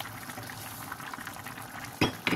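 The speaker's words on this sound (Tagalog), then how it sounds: "Kumukulo na siya" A pot of chicken and vegetable soup with orzo bubbles and simmers steadily, with two sharp clinks of a utensil against metal near the end. No one speaks.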